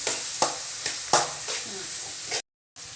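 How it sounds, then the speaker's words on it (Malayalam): Tomato sautéing with onion in a pan sizzles steadily, broken by a few sharp scrapes and stirs of a spoon, then cuts out briefly near the end. "തക്കാളി വഴറ്റി കൊടുക്കാം."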